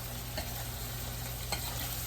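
Turkey wings sautéing in butter in a pan give a steady low sizzle, with a couple of brief clinks or stirs standing out near the start and again toward the end.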